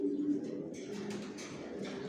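Pet pigeons coo softly in a rooftop loft, low murmuring calls that carry on quietly throughout the stretch.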